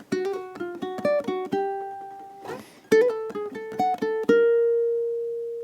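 A ukulele picks a gypsy jazz waltz phrase in crisp plucked notes, quick bursts of short notes broken by a brief scrape, ending on a ringing sustained note.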